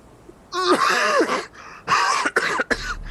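A person imitates a raspy cough, letting out a few harsh, hacking bursts up close with short gaps between them.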